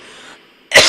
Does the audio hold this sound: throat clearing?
yes